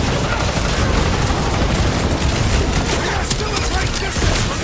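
Dense gunfire rattles through a battle in Marvel's Guardians of the Galaxy, a continuous loud barrage of shots and impacts with no clear gaps, layered over game music and effects.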